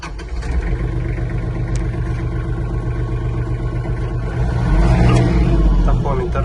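A Kubota GL30 mini-tractor with 743 engine hours runs its engine steadily up close, the low droning mechanical note swelling louder and rougher toward the end.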